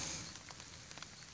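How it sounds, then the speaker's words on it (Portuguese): Soft, steady rain patters on a hat in a forest, a faint hiss with scattered light drops, heard alone. "ouvir o barulho da chuva batendo no chapéu"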